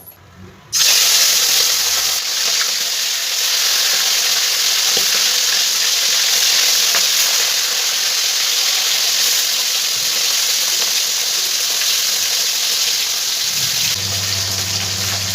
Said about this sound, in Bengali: তেলটা আমার গরম হয়ে গেছে এবার মাছের মাথাগুলো সব আমি ভেজে নেবো